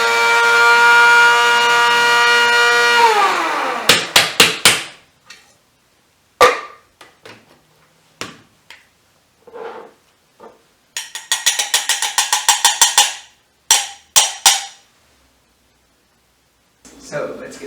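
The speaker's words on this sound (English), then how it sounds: "I'm just going to plop them right in my spice grinder" An electric spice grinder whirs through toasted spices in several short bursts, a loud mechanical whine that starts, winds down and pulses again with gaps of silence between.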